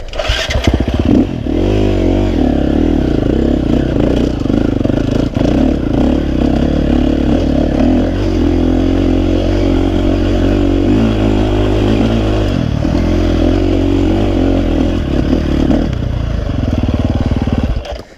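A KTM dirt bike on the Razorback Trail climbs a hill in second gear, its engine revving hard and loud close by, with rattling and clatter underneath the steady roar for most of the run before it cuts off at the end.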